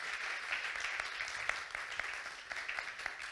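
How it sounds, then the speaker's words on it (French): Audience applauding the speakers at the Agile en Seine 2021 conference, an even, continuous rain of many hands clapping in a room at moderate loudness. "Déjà quelques applaudissements aux speakers."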